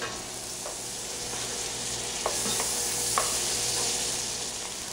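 Vegetables sautéing in a pot over medium to medium-high heat for a Bolognese sauce, a steady soft sizzle with occasional scraping stirs, close and moderately quiet, no talking.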